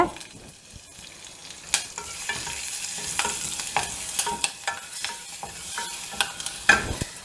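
Cumin, asafoetida and green chilli sizzle loudly in hot ghee, with a continuous close frying hiss broken by sharp scraping stirs and spatters, and no talking.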